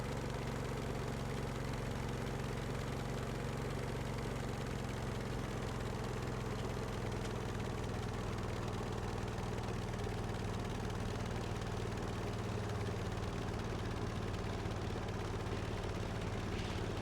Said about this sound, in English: the engine audio is not perfect yet